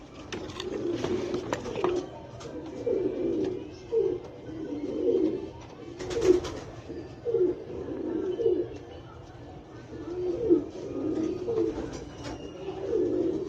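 Pigeons coo repeatedly inside a loft, soft rolling calls recurring every second or two at close range, with faint rustling and a brief louder flutter in between.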